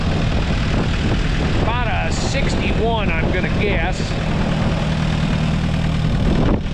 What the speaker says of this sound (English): It is a Series 1 tractor.